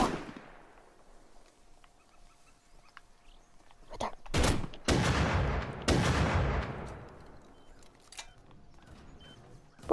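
Gunfire in the video game Rust: a few heavy, echoing shots around the middle, loud and rolling, surrounded by quieter stretches and a late sharp crack.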